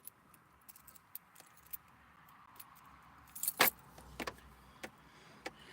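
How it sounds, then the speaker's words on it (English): Chevy car keys jangle in a hand: faint scattered metallic clinks, then a brighter cluster of rattling jingles near the middle, followed by a few more isolated taps, close by in an otherwise quiet space. "Chevy keys that I don't need."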